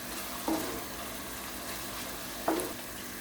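Onions and eggplant being sautéed with a spoonful of tomato paste, a soft steady frying hiss with two brief scraping stirs of the spoon in the pan.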